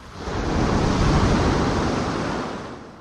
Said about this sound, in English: The waves, like sandpaper, further reshaping the land.